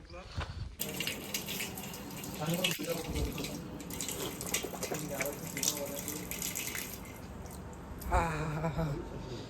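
A tap runs steadily as hands are washed at Vedapur temple in Warud, Amravati, a close continuous gush and splash of water with people talking over it throughout.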